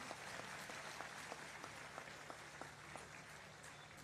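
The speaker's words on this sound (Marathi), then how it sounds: "मान्यवर सर्वांनी टाळ्या वाजून एकदा बाळासाहेबांचं या ठिकाणी नांदेड नगरीमध्ये स्वागत करायचं आहे" Applause from a large audience at an outdoor rally in Nanded welcoming Balasaheb Ambedkar, a steady continuous clapping wash with scattered sharper claps throughout, no voices over it.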